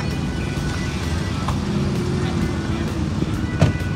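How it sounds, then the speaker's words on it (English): A small car rolls past on a street in a tiny town, its steady low engine and road noise close by under a constant outdoor hum, with a voice talking. "I'm just going to jump out of the way of this little car here."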